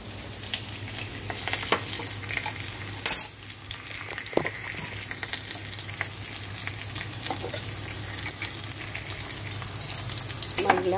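Garlic frying in olive oil for pasta aglio olio: a loud, continuous close sizzle with bursts of crackling and an occasional stir or clatter, without speech.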